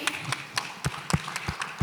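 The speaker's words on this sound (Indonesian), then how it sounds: "Tepuk tangan teman-teman untuk Pak Menteri" Applause for a government minister at a panel talk on copyright, a few scattered, fairly light claps at an uneven pace rather than a full ovation.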